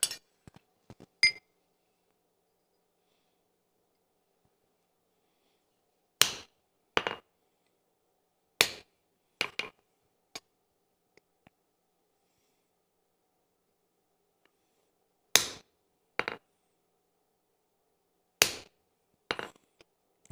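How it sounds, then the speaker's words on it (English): A hammer strikes a chisel carving a railroad spike: sharp metallic clinks in small bursts of one to three hits separated by long silent pauses, close and alone. "Oh, I forgot to get the chisel out."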